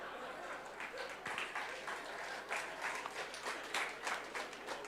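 Scattered clapping from an audience at a talk by Prof. EV Girish, fairly faint and uneven, with a few louder bursts and a background murmur.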